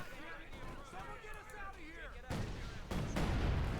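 A mine detonates in Company of Heroes 2, an OKW versus USF battle, with a sudden broad blast near the end that follows earlier muffled gunfire and battle noise, all under a commentator's continuous talk.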